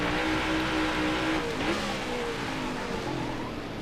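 A NASCAR Next Gen race car from NASCAR Heat 5 at Sonoma howls steadily through a lap, the engine note rising and falling with throttle and braking, loud and continuous with no talking.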